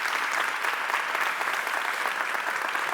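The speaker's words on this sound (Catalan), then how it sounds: "Un aplaudiment per ell." An audience at a theatre award ceremony gives a steady, full round of applause, dense clapping from many people with no voices over it.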